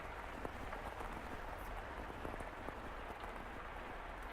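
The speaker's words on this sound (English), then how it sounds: "Sounds like rain again." Steady rain falls on a surface in The House in Fata Morgana, a dense, even patter of drops at moderate, constant level with no voices.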